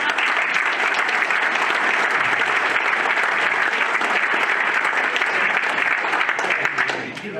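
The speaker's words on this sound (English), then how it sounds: "So give them a round of applause." Audience members at a livestock judging team awards ceremony give a full round of applause. The clapping stays dense and steady throughout, then fades slightly at the close.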